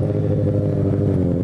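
A motorcycle engine runs loud and close, a steady buzzing drone with a slightly rough, rattling edge.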